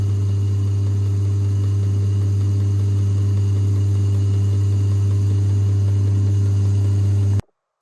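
A Kerry AG lathe runs steadily in gear with its clutch dragging, giving a strong constant low hum with a mechanical drone that continues unchanged for several seconds before cutting off abruptly.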